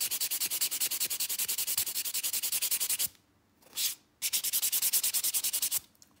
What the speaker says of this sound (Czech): Takže si vezmu brusný blok.